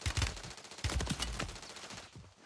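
Rapid automatic gunfire in Warzone on Rebirth Island with an M4: quick rattling bursts, close and punchy, two main strings of shots followed by a fading tail.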